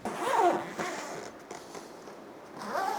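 Zipper on a Sculpfun laser enclosure is pulled closed in a couple of short rasping runs, close and fairly quiet, with a soft pause between them and no talking.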